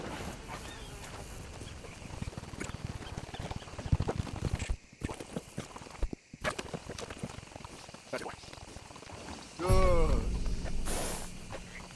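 Horse hooves clip-clop along at a walking pace in Red Dead Redemption 2, on an Arabian rose grey bay horse, with game ambience around them and a louder burst near the end.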